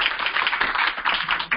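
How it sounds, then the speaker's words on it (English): An audience gives a big round of applause for a gentleman who has just delivered an invocation at a spiritual talk. The clapping is dense and steady, filling the whole moment with no voices over it. "Big round of applause for this gentleman"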